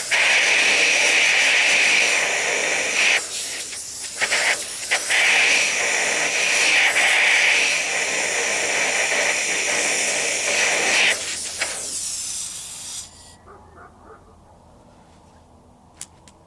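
Compressed air blasts out a drilled hole in cement for a shop post anchor. A loud, continuous hiss with sputtering bursts runs for about twelve seconds, then cuts off to quiet background.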